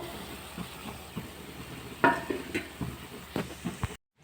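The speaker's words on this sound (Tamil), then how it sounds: "இப்போ மிளகாய் தூள் தனியாத்தூள் கறி மசாலா தூள் போட்டு மூணையும் மிக்ஸ் பண்ணிக்கணும்" Chili, coriander and curry masala powders stirred together in a pan for a raw banana curry, giving soft scraping and faint sizzle with a few louder utensil knocks near the middle, then abrupt silence.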